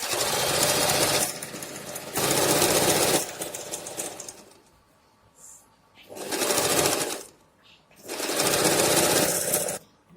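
Sewing machine stitching a seam on a pair of pants, running in three or four loud, close bursts of rapid mechanical chatter separated by short quiet pauses.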